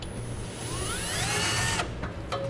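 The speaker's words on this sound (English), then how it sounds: "Now I'm gonna use a 5/8 diameter drill bit. I'm going to use it to mark the center of each of my holes." Power drill spinning a 5/8 inch bit into a truck bed to mark hitch mounting holes for an underbed gooseneck hitch, a steady close whine that rises in pitch, then stops with a few short follow-up bursts.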